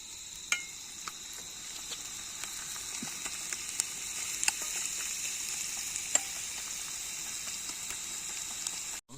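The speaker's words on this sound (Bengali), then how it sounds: "তো প্রথমে আমরা পেঁয়াজ দিয়ে দিলাম, তার সঙ্গে একটু লবণ দিয়ে দিলাম।" Onions with a little salt sizzle steadily in a pan over a riverside campsite cook fire, with faint scattered crackles and pops over the continuous frying hiss, no voices.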